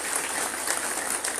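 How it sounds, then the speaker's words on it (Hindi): A crowd at a Tiger Force ceremony in Attock claps, with dense, steady applause filling the whole short stretch at an even loudness and no voices over it. "आप टाइगर फोर्स वालों के लिए एक बार जोरदार तालियां अपने लिए"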